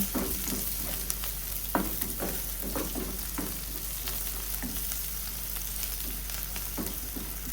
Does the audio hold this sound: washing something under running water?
no